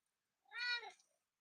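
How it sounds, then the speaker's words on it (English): A ginger cat gives a single clear meow, close and fairly quiet, rising and falling over about half a second in an otherwise silent room. "Well, he's a ginger cat,"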